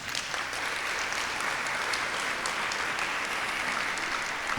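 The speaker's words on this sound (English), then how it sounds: "Let's give that a round of applause." A crowd at a ceremony honoring Opal Lee, the Grandmother of Juneteenth, gives sustained applause, a steady wash of many hands clapping at moderate distance with no break.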